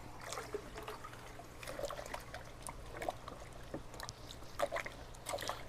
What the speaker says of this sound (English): Just go ahead and squeeze them out in there.